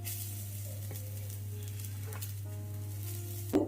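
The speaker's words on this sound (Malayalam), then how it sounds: "ഇതൊന്ന് ഇളക്കി കൊടുക്കാം ഈ അരിഞ്ഞെടുത്ത ചീര ചേർത്ത് കൊടുക്കാം" Ground coconut paste and chopped spinach for cheera thoran stirred in a hot pan, with a steady close sizzle and a few soft scraping strokes, ending in a brief louder clatter, with no talk.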